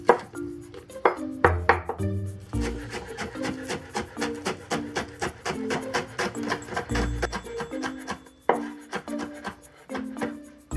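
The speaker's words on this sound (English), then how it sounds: "next we can mince the green onion." Knife mincing green onion on a cutting board, a rapid run of crisp, evenly spaced chops close up, with a few brief pauses between bursts.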